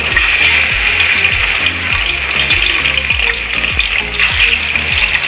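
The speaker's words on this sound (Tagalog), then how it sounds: "At saka ilalagay na natin itong chicken. Pipritoyin muna natin." Chicken pieces frying in hot oil in a pan for tinola, a loud steady sizzle with crackling throughout under a low rhythmic background hum.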